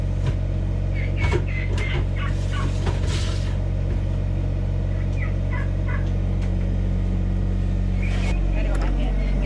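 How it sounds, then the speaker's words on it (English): Turkeys gobble repeatedly in bursts of rattling calls over a steady engine-like hum outdoors on a pasture, several birds close by, with a person talking at times. "You turkeys are loud."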